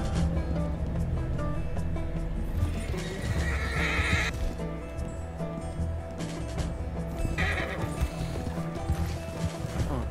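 A horse in the Red Dead Redemption 2 video game whinnies loudly while hooves clip-clop at a steady gallop, over a dense, busy background mix.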